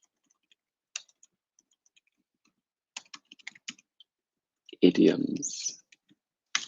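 Sparse, light key clicks of someone typing a question on a computer keyboard, scattered taps in small clusters, close and quiet, with a brief spoken word near the end.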